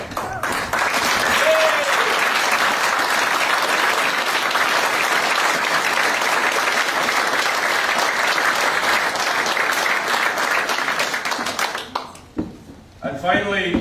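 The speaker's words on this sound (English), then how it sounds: "So I would like a round of applause for all the helpers." Sustained, dense applause from an audience at a boating club breakfast for the helpers, steady and loud for about eleven seconds before fading out, with a voice speaking at the end.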